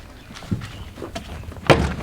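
Rusty door of an abandoned, rotting 1961 Ford Falcon being worked open, giving a few dull clunks and a sharper metallic thunk near the end, with no voices.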